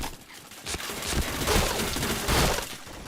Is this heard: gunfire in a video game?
yes